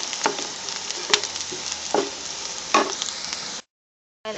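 Onions frying in a pan for fish molee, cooked gently until translucent: a steady close sizzle with occasional louder crackles and stirring scrapes, cutting out briefly near the end before resuming.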